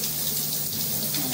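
Shower water running steadily while a Shih Tzu is bathed, a close, constant spray with no break and no voices.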